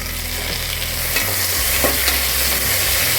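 Tomatoes sizzle steadily as they fry in a pan with onions, a spoon stirring and scraping through them, close and continuous, no voices.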